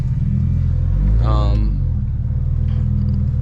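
A single-turbo BMW 335is rumbles loudly throughout, heard from inside the car on a road drive. Its engine note swells in a brief rising rev near the middle and then falls back to a steady low drone.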